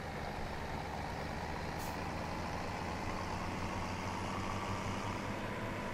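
A tractor in the video game Farming Simulator 2017 drives along, its engine a steady, continuous drone with no talking over it.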